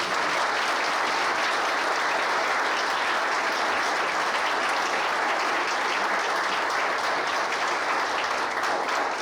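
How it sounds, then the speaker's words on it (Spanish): Dense, even audience applause carries on loudly and without a break for about nine seconds, with no talk over it. "así que el aplauso para ella."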